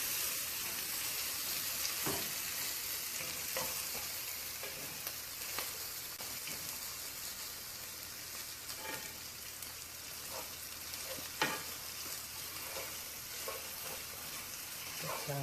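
Sausages cook in a covered pan for a Southern Sunday dinner, a soft, steady sizzle and bubbling with scattered small pops and clicks, fairly quiet and unbroken by talk.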